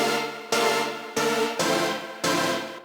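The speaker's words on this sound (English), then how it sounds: "it just adds a little bit of bit crushing to the sound." Five loud, evenly spaced stabs of a layered synth chord, each hit sharp and slowly fading, gritty with heavy distortion and bit-crushed digital crunch, in an electronic production with no voices.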